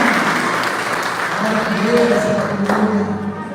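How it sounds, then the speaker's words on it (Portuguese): Members of a church congregation applaud during a worship service to celebrate a birthday, with moderate clapping running throughout under some faint voices and background murmur. "Uma salva de palmas que ele fez aniversário"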